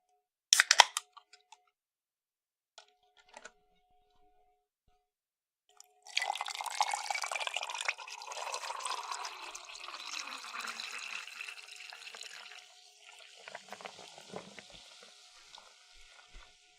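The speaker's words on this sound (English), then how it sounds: "And do a pour real quick" A drink being poured during a live stream: a few faint clinks, then a steady liquid splash and trickle that runs for several seconds and tapers off, close by with no talk.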